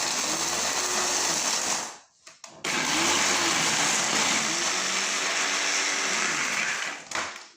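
A blender grinds bread into fine homemade breadcrumbs, running as a loud, continuous high-pitched whirring roar, pausing briefly around the two-second mark, then resuming steadily before easing off near the end.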